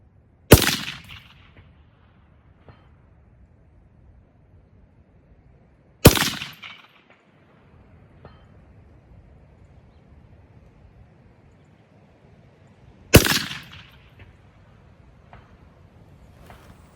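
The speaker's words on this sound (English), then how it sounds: "I only have a few shots left, so I'm going to go ahead and put them on target." Three rifle shots are fired at a distant long-range target on a cold night, spaced roughly six seconds apart. Each sharp crack trails off into a short echo over faint wind.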